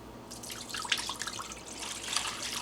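Four cups of water poured into a cooking pot, a continuous splashing trickle with bright droplet sounds, close and alone, lasting the whole moment.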